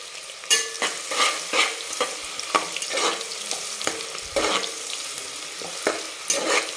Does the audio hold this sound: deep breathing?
no